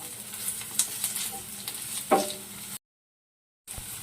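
Onions and curry leaves with green chillies fry in hot oil for a paneer tomato curry, a close sizzle with scraping stirs and a sharp knock, breaking off into a moment of silence before the frying resumes.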